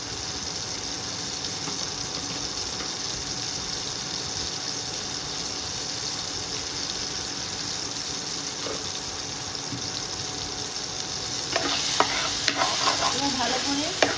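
Turmeric and Kashmiri red chili powder frying in a pan with oil, a steady loud sizzle running throughout with occasional stirring scrapes, growing slightly busier near the end.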